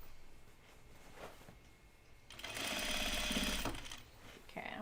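A sewing machine stitches the side seam of a pair of jeans, starting with quiet handling and then a loud, steady run of rapid needle strokes for about a second and a half, followed by a short second burst.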